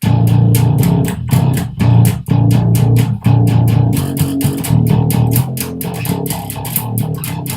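A distorted bass guitar riff plays loud and steady, low notes chugging in short repeated phrases with brief rhythmic breaks, no voices.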